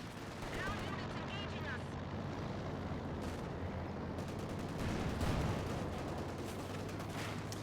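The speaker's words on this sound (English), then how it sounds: "the PTRSs are going for the Panzer IV" PTRS anti-tank rifles fire at a Panzer IV in Company of Heroes 2, with dense gunfire and booming shots running under continuous commentary voices.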